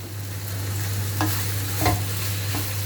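Chicken börek filling fried in olive oil gives a close, steady sizzle broken by a few sharp stirring scrapes of a utensil in the pan, with a constant low hum underneath.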